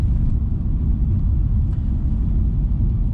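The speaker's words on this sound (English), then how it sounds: "These roads do tend to be a little bumpy and noisy, given the fact they're ice roads" A Volvo fitted with Michelin CrossClimate tyres drives over a bumpy Swedish ice road, giving a continuous deep cabin rumble of tyre and road noise with faint knocks from the uneven surface.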